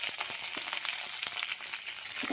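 Ginger and curry leaves sizzling in hot oil in a pan, a constant bright crackle with scattered popping bursts, close and alone.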